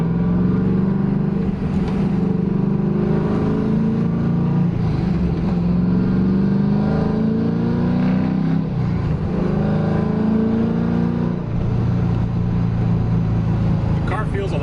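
Car launching hard from a roughly 3,000 RPM clutch dump on Toyo R888 tires over an unprepped surface, its engine droning loud and steady with rising and falling pitch throughout, likely with speech over it.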